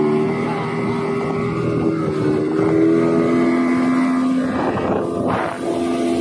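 A speedboat's engine runs steadily while carrying four people across open water near a harbour, a loud continuous motor drone with wind buffeting the microphone and no talk.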